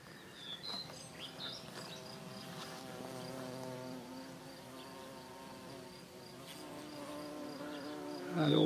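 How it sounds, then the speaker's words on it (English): Bumblebees buzzing around poppies and other flowers in a summer garden in the Creuse, a soft, wavering hum with changing pitch as bees drift near and away, faint and outdoors with no talk. "And all the bumblebees are just thoroughly enjoying themselves at the moment."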